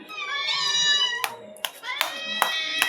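A cat meows in a long, loud, drawn-out cry while waiting for cooling fish-and-rice food, followed by shorter meows broken by sharp clattering knocks, close to the listener.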